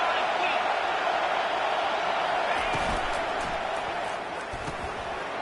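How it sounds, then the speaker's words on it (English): A stadium crowd at an American football game roars behind the defense on third down, a loud, steady wall of cheering that fills the whole stretch without breaks. "Decibels rising as the crowd gets behind this defense on 3rd down"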